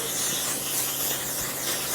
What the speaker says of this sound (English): let me go ahead and spray real quick